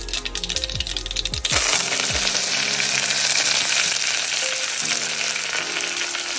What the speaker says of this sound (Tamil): எண்ணெய் சூடானதும் அதில் நம்ம கடுகு வச்சு தாளிக்கணும்